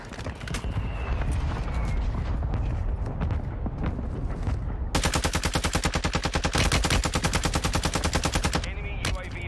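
Warzone 2 mortar strike with gunfire: scattered shots and impacts at first, then a long loud rapid-fire barrage of evenly spaced bursts that ends abruptly.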